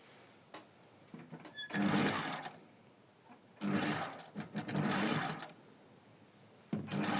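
A sewing machine stitches a first seam about a millimetre from the edge in three loud, close bursts of rapid mechanical whirring, separated by quiet pauses with small handling clicks.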